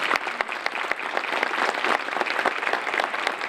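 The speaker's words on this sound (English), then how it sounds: "give yourselves a round of applause for that" Steady applause from a crowd at a hall of fame dinner, dense clapping sustained throughout with no voices.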